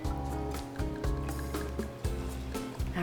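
Chianti red wine pours into a glass in a steady, gurgling stream with a rising pitch, recorded close and fairly loud, interrupted by a few brief gulps.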